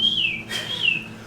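A narrator whistles in imitation of someone whistling down a hallway: two clear, rising-then-falling whistled tones, close and fairly loud, with a brief breathy gap between them.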